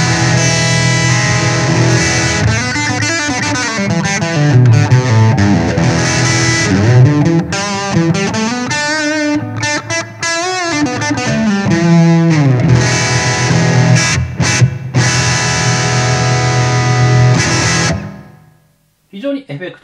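Electric guitar played through a VOX Pathfinder 10 amp with reverb added, a distorted, effected tone with sustained chords and melodic runs, loud and continuous for about seventeen seconds before ringing out and stopping.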